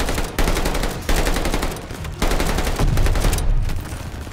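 Loud automatic gunfire from a World War II–era weapon in Call of Duty Vanguard, long rattling bursts separated by short pauses, close and dominant throughout.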